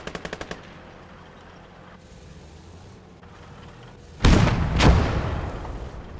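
Gunfire in the Gates of Hell: Ostfront war game: a quick machine-gun burst, then a quiet stretch, then two heavy artillery booms with a rumbling tail.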